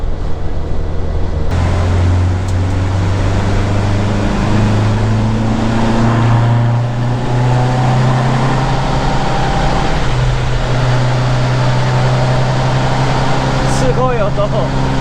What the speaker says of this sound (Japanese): エンジン吹かしてみました。